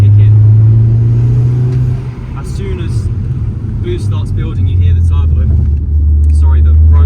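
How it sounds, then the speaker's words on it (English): Stage 3 tuned Audi S3 8P rated at 420 bhp, heard from inside as the engine pulls and the turbo builds boost, a steady loud drone with rising whooshing hiss over it and brief fluttery chirps. "As soon as boost starts building, you hear the turbo."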